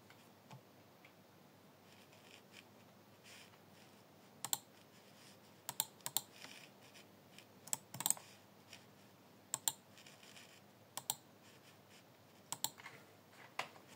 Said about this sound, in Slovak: No zatiaľ môžem ešte ukázať moju klávesnicu.